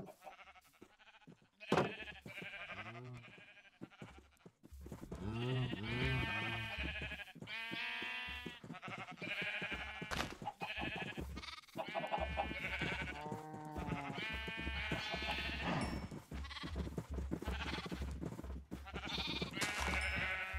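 Repeated sheep bleats in a blocky sandbox video game, loud and overlapping in quick succession for most of the stretch, with a sharp click near the start and a steady low game hum underneath.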